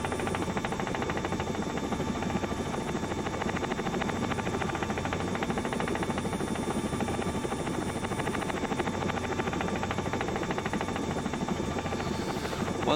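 A helicopter climbs away in a flight simulator game with a loud, steady rotor buzz and engine drone that holds unbroken throughout.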